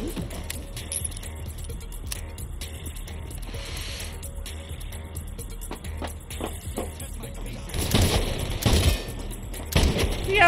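Gunfire from Crime Boss: Rockay City, with sharp shots scattered through a busy scene and a louder flurry of bangs near the end, mixed with clatter and background voices.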